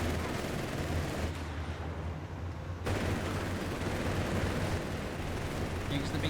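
Continuous heavy gunfire and rumbling blasts in a Company of Heroes 3 battle, troops shooting at a machine gun crew, a steady loud din of automatic fire with a brief dip midway.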